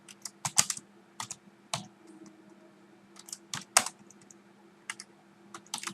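Bursts of keystrokes on a computer keyboard while code for a left-aligned triangle pattern is typed, clustered in quick runs with short pauses, close and clear over a steady low hum.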